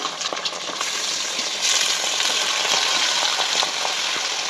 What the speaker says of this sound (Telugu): ఆయిల్ హీట్ అయింది. ఇందులో ఆనియన్స్ వేసుకున్నాము. ఇందులో బాగా కడిగి పెట్టుకున్న చికెన్ వేసుకుందాము.